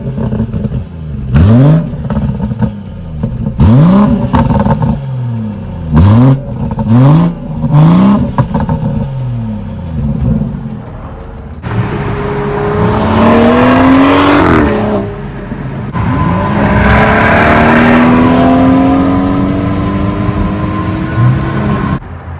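A car with a B58 engine and catless downpipe revs repeatedly in sharp bursts, loud and close, then holds longer rising pulls with a raspy exhaust roar.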